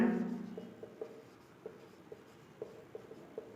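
A pen scratches across paper while underlining a verb, a short run of light, evenly spaced scraping strokes, close and quiet, with no talking.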